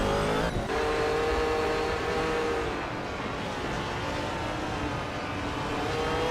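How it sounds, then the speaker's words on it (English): Race cars in a racing video game, engines whining and revving continuously with shifting pitch as several cars run close together, loud and steady throughout. "The race kicks off with Amy taking the lead, followed by Lakaju holding strong in second place."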